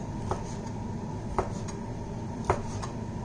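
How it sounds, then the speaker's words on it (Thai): A knife chops through grilled pork on a cutting board in a few separate, sharp strikes with pauses between them, close by and fairly quiet, with no one talking. "เดี๋ยวเรามาหั่นหมูนะคะเพื่อนหมูย่างนะคะ"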